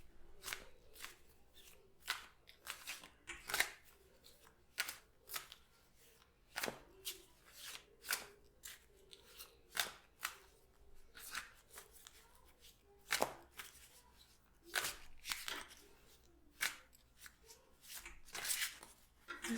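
Tarot cards are shuffled by hand close up and softly, a long run of papery riffles, slaps and rubbing strokes in an uneven rhythm against a quiet background.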